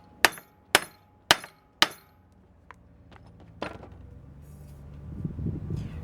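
A hammer strikes a part of a 1991 Marin Palisades Trail bicycle during a full overhaul, giving four sharp metallic blows at an even pace. Quieter taps and clinks follow, then a low rumbling handling noise.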